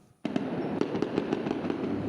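Gunfire from military camps during a soldiers' mutiny in Burkina Faso, a rapid string of sharp cracks starting abruptly and repeating unevenly, fairly loud and distant-sounding, with no speech.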